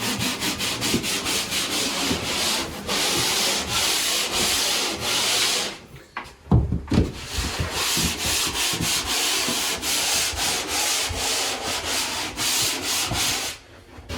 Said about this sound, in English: Looks like I'm going to have to work with the mud to try to smooth that out.